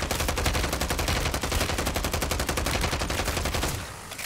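Rapid automatic gunfire from Warzone 3 as players shoot zombies, a dense, steady stream of closely spaced shots that runs loud and continuous, then cuts off near the end.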